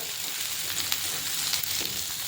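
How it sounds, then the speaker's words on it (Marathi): Green chillies and tomatoes fry in a pan for a Maharashtrian matar paneer, making a continuous close sizzle with small crackles and pops throughout. No one speaks. "त्यामध्ये आपण अजून हिरवी मिरची टमाटर वगैरे भाजून घेणार आहोत"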